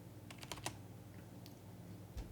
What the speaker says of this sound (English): my keyboard just makes a lot of noise